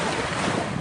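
Sea surf washes in at Siloso Beach on Sentosa, Singapore, a loud, continuous roar mixed with gusty wind buffeting the microphone.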